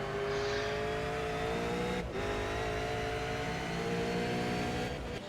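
Race car engine heard on board during a race at Canadian Tire Motorsport Park's Moss Corners, following another car onto the back straight; a loud, steady high-revving drone with harmonic whine, one brief gear-change dip, no talk.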